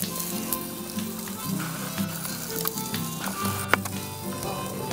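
Garlic-seasoned rib meat on sticks sizzles steadily on a BBQ grill, a close, continuous crackle with small pops and a faint low hum beneath.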